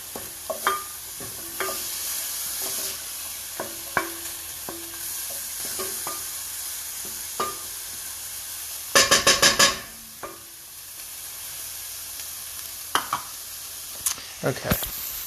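Ground turkey or beef sizzles steadily in a pan, broken by repeated tapping and scraping of a spatula and a brief louder burst of crackle midway.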